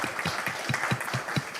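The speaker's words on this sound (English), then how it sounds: "I think you can give her a round of applause" Audience at a Czech-French artificial intelligence workshop gives a round of applause, a steady patter of many hands clapping at moderate loudness, with a few distinct beats standing out through the short burst.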